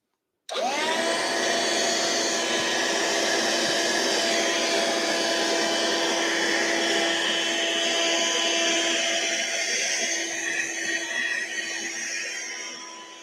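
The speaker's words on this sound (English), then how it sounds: "vacuum's coming on" A vacuum cleaner switches on and runs steadily at close range, a loud constant whine with a high tonal drone, used while tidying static grass on a model railway layout; no voices, and the motor winds down slightly at the end.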